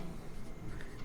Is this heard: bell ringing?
no